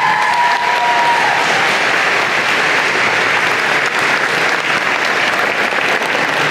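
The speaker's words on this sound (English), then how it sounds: "can we give them a big round of applause?" Loud, sustained applause from a convocation crowd at a college of engineering and computer science, a thick continuous roar of clapping with a brief cheer near the start.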